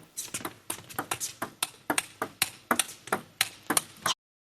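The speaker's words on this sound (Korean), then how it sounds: "두 선수가 랠리할 때 소리를 잘 들어보시기 바랍니다" A fast table tennis rally between two players: crisp ball hits on paddle and table alternate in a quick, steady rhythm of sharp clicks, then stop abruptly.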